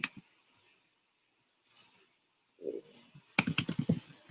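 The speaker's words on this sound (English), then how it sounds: "I'll type it in right here." Scattered clicks of typing on a computer keyboard, sparse taps at first and then a quick close burst of keystrokes near the end, quiet and alone.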